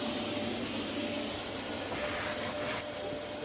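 An elephant-shaped vacuum cleaner with a trunk runs steadily while sucking up debris during insulation and ducted heating work, a loud continuous whooshing drone with a thin whine that does not let up.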